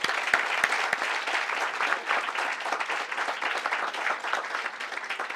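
An audience at an evening leadership award celebration gives a sustained round of applause for the event committee, dense steady clapping from a crowd that carries on for several seconds without speech.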